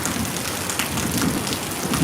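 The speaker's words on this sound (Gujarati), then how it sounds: "સુરતની અંદર હાલ અત્યારે જોરદાર વરસાદ શરૂ થઈ ગયો છે વીજળીના કડાકા ફડાકા સાથે" Heavy, steady downpour over Surat, a dense continuous roar of rain striking surfaces with a low rumble of thunder beneath it, close and loud throughout with no voices.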